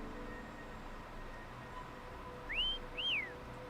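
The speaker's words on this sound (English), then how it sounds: "that was the most cat call whistle I've ever heard in my entire life." Two rising-then-falling whistled notes in quick succession, a person's cat-call whistle, fairly clear over a quiet, faintly humming room.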